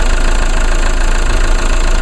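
Four-cylinder diesel car engine idling on a cold morning at 23°F, a loud close rhythmic clatter with steady knocking pulses and no talk.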